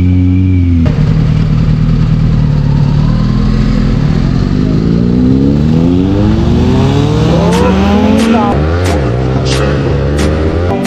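A Kawasaki Z900 superbike on a ride in the Patratu valley revs loudly and close, its engine pitch sweeping up and down in repeated surges that fill the whole stretch with continuous roaring.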